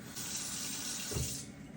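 Tap water runs steadily into a sink to soak towels wrapped around corn cobs, a close hissing stream that stops abruptly near the end with a small splash.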